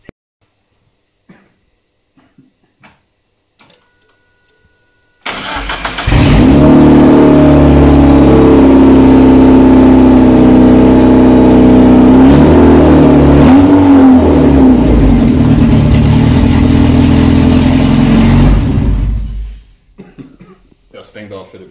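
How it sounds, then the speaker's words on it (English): A Toyota Supra mk3 engine starts up and idles loudly and close for about fourteen seconds, rising in pitch as it revs midway, then cuts off abruptly, with brief faint sounds before and after. "You change the firing order of the ignition coils to get the engine running"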